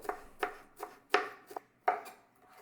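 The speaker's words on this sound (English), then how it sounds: "So the next thing you want to do is just cut your dill." A knife chops dill on a cutting board in six or so distinct, irregularly spaced thunks, close and clear against near silence.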